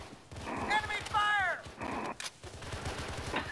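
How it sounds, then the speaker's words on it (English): Rapid bursts of gunfire crackle in Arma 3 OPTRE, a military combat setting, as rhythmic repeated shots fill the clip, with a shouted voice cutting in briefly midway. "Enemy fire!"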